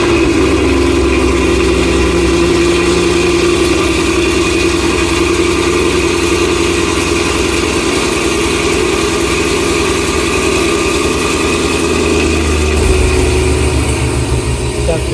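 A Cadillac CT5-V Blackwing with aftermarket headers running on a dyno, its engine holding a loud, steady drone with a constant roar and a slight shift in tone near the end.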